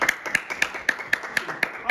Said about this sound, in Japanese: 拍手ちっちゃくないですか？